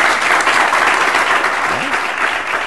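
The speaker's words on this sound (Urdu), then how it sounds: "آپ کو تو بجانی چاہیے تالیاں، بالکل بجانی چاہیے" An audience at a celebratory gathering breaks into steady, dense applause, a continuous wash of clapping with a brief voice rising under it.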